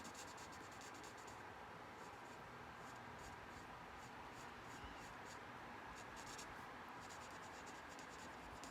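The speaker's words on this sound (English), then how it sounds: "So we're gonna color it in Old Olive" Steady scratchy marker or ink coloring on paper, filling in a stamped flower stem with Old Olive ink for a handmade card, a continuous soft rubbing that stays close and quiet with no talking.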